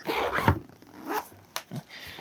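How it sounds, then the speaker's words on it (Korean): A pocket zipper being opened on a travel backpack, with several quick, close rasping pulls separated by short pauses. "포켓 지퍼를 열어보면"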